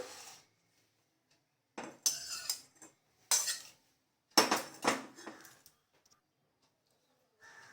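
Roasted chana dal scraped from a pan onto a plate with a metal spoon: a few bursts of clinking and scraping separated by silent pauses, close and fairly quiet.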